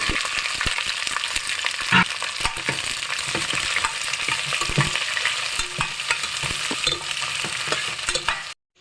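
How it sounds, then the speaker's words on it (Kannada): Mixed vegetables frying in oil for veg pulao, a loud continuous sizzle broken by frequent stirring scrapes and clinks, close up, with no talk. "ಇದನ್ನೆಲ್ಲ ನಾನೀಗ ಈ ಆಯಿಲ್ಗೆ ಹಾಕೋತೀನಿ ವೆಜಿಟೇಬಲ್ಸ್ ಚೆನ್ನಾಗಿ ಫ್ರೈ ಆಗಬೇಕು ಆಯಿಲಲ್ಲಿ"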